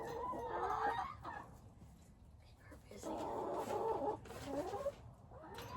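Chickens cluck softly near a new pecking toy meant to distract them, low murmuring bursts in a quiet coop, faint and close.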